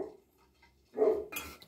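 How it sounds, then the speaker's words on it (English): A dog gives a single short bark indoors, loud and close, after a quiet stretch, followed by a brief clatter. "Barking."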